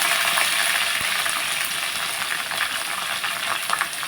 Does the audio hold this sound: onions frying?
yes